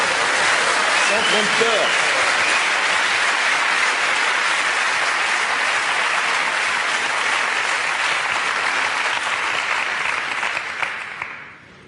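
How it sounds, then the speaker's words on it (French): Sustained applause from an audience, steady and full for about ten seconds before fading out, with a voice briefly heard at the start. "On peut l'applaudir pour l'encourager"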